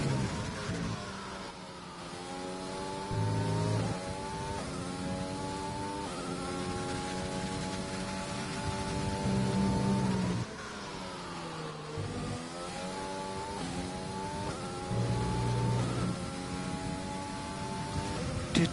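An F1 race car engine in a racing game set at Bahrain sustains a loud, steady whine, with its pitch stepping up and down through repeated gear changes and revs for the whole stretch, and no talk over it.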